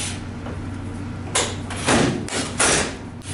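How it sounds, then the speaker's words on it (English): Commercial warewashing dishwasher door in a hospital kitchen pulled down past its safety catches and closed, several heavy metallic thumps and clunks over a steady machine hum, close by. "The doors have safety catches, which you're going to push out of the way and pull the door down."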